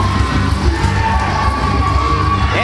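A crowd in Georgetown cheers loudly for a newly crowned championship belt winner, a sustained roar of shouts and whoops filling the space.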